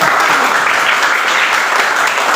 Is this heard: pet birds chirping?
no